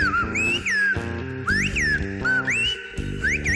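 A single whistler performs Silbo Gomero, the whistled language of La Gomera, with clear, piercing gliding tones rising and falling in short phrases separated by brief pauses, heard close and alone over a quiet musical background.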